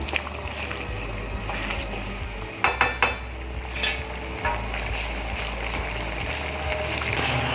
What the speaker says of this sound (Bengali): এবার ভালো করে মশলার সাথে লাউটা মিশিয়ে নেবো আমি।